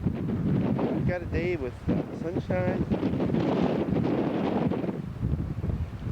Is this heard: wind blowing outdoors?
yes